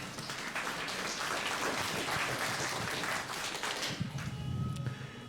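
At a teacher job-placement event held by a Peruvian UGEL education office, an audience claps together to welcome a speaker. The applause is a dense, fairly distant wash that holds steady for several seconds and then tapers off into quiet room sound.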